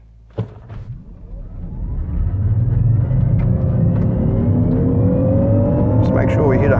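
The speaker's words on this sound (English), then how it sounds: "I'll hit the accelerator as fast as I can." A 2019 Jaguar I-PACE electric car in dynamic mode accelerates hard from a standstill. A rising electric motor whine climbs in pitch over growing road and tyre rumble, heard from inside the cabin after a sharp click.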